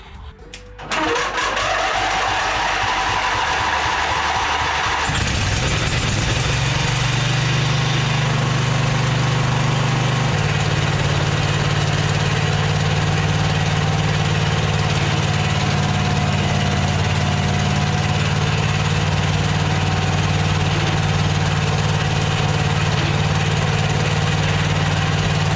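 A lawn mower engine starts after a few rough turns, then settles into a loud, steady idle heard close by for over twenty seconds, with a slight shift in tone partway through.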